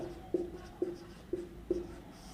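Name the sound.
writing on a board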